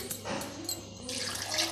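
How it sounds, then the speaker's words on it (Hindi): A cup of water poured into a grinder jar holding potatoes, ginger, green chillies and curry leaves, a short, close splash and trickle in a home kitchen. "1 कप पानी डाल करके"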